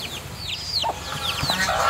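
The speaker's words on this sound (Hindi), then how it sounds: "मुर्गी को भी देता हूँ, देखे कैसे उछल रही है।" Hens and a rooster cluck and call while being fed on a village farm, with repeated short chirps and clucks close by and low rustling underneath.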